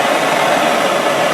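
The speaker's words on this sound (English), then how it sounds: "You're going to heat the brass rod up." A heating tool blows hot air onto a brass rod while a golf club shaft is being removed, giving a steady, loud rushing hiss with no pauses.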